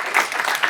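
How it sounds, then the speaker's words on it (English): Audience applause after a talk at a game industry conference, a brief burst of dense clapping at moderate level with no speech over it. "Let's give Jesse a applause."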